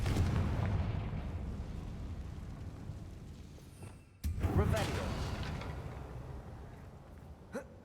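A Confringo fire spell is cast in the Hogwarts Legacy video game. One deep rumbling blast fades out, then a second explosive burst hits at close range and rolls off into a long crackling decay.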